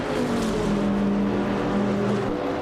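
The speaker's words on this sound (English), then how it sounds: "Princess Wildface is driving a 29 BMW" BMW M3 E92 GT2 race car in a racing video game, its engine droning steadily with a sustained harmonic whine throughout, loud and continuous with no talk.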